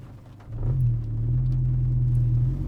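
A Mk6 Volkswagen Golf GTI Edition 35 with an upgraded exhaust idles with a deep rumble, then the exhaust rises into a steady, throaty rev that holds for a couple of seconds, fairly close.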